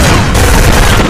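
Dense, loud gunfire from the first-person shooter Black on the PS2, a brief wall of rapid shots and booms packed tightly together with no pauses.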